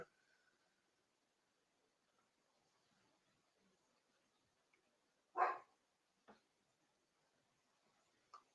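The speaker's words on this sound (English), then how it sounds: "Stop barking!" A dog gives one short bark followed by two fainter, brief yaps, spaced seconds apart in an otherwise quiet room.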